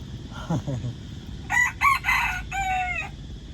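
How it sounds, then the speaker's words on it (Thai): A rooster crows once, loud and close, in a long drawn-out cock-a-doodle-doo that follows a brief moment of talk. "โอ้โหไก่บ่เพิ่นก็ขันพี่น้อง"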